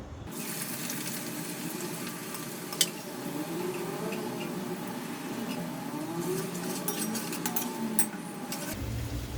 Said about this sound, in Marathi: आता आपण हा दुसरा आहे हा तळून घेऊया